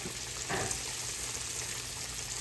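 Sliced yellow squash, cut about half an inch thick, fries in a pan with a soft, steady sizzle and a brief louder burst near the start, fairly quiet with no talking.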